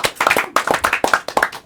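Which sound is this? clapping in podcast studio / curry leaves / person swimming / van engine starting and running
clapping in podcast studio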